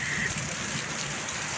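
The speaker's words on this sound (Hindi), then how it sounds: "इतनी तेज बारिश हो गई है ना" Heavy rain pouring down steadily, a dense, loud hiss of drops hitting surfaces that continues without a break and with no voices over it.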